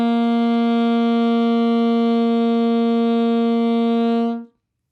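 An alto saxophone holds a single G, one steady, clean, moderately loud tone sustained for over four seconds before it fades and stops, with no other sound around it.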